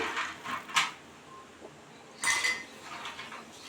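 Half a cup of cashews dropped into a cooking pot of simmering dried mango leather with raisins, giving a few clattering, clinking bursts against the metal pot, separated by a quiet pause.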